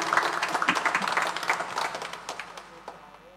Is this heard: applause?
yes